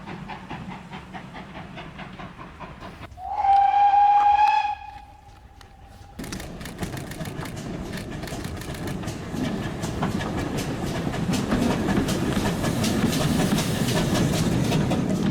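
A steam train on the Severn Valley Railway during its winter gala, with a loud whistle blast followed by rising steam hiss and the rumble and clatter of the moving train.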